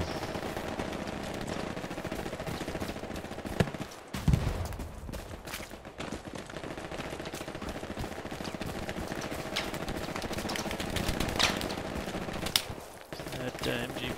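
Bursts of MG42 machine-gun fire in a video game rattle in rapid volleys, loud and dense, with a few heavier blasts, while voices talk over the shooting.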